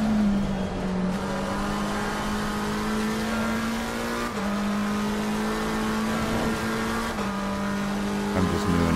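A McLaren race car in Assetto Corsa Competizione, qualifying at Donington Park, holds a steady, loud engine drone. Its pitch dips and rises as the car shifts and brakes into corners, with faint tyre noise underneath.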